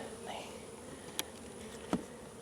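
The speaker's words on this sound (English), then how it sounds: "Bees are starting to rob, and look." Honey bees near a hive as robbing begins, a faint steady buzzing drone with a couple of brief louder passes of individual bees close by.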